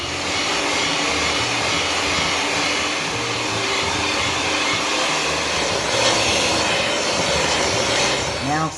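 An electric mixer blending magic custard cake batter after flour and softened butter go in, a loud, steady whirring drone that holds continuously throughout, close up with no pauses.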